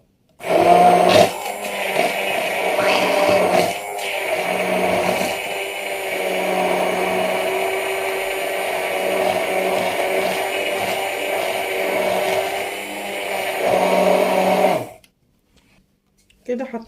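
A blender whirs loudly for about fifteen seconds, churning a marinade with lemon juice and vinegar, a steady motor drone with brief pitch shifts, then cuts off abruptly into near silence with a faint knock at the end.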